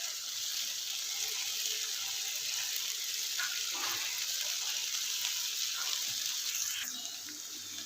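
Finely chopped garlic lightly roasting in a pan gives a steady, fairly quiet sizzle with soft hissing throughout, broken by a few faint clinks and scrapes as it is stirred.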